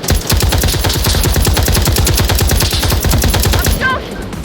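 Rapid automatic gunfire from a realistic VR Vietnam survival match rattles on loudly and close in a dense, continuous burst, then cuts off near the end.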